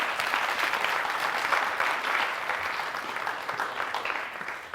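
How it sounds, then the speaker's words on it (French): A television studio audience applauds as two women guests arrive on set, a sustained, even wash of clapping from many hands that holds steady before tapering slightly at the end. "Merci de les applaudir pendant qu'elles arrivent."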